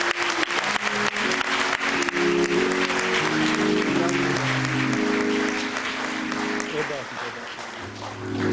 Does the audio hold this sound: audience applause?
yes